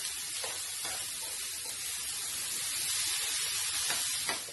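Chicken drumsticks are stirred in a hot pan, a soft continuous sizzling hiss with a few faint utensil taps, quiet and close, with no voices.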